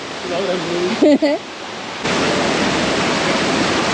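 Steady roaring rush of the Dudhsagar waterfall pouring into a pond below, a broad, continuous wash of water that swells louder partway through, with a brief burst of talk early on.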